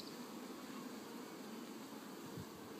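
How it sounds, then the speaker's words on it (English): Honeybees hum in an opened hive, a soft, steady, even drone holding at a low level throughout with no talking. "Bees."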